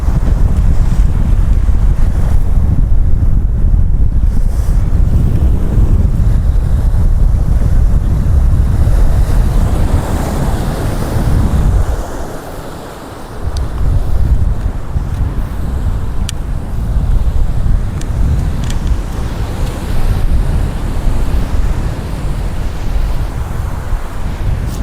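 Steady wind roars across the microphone on an Arabian Sea beach at sunset, with surf washing in beneath it in a continuous loud rush and one brief lull midway.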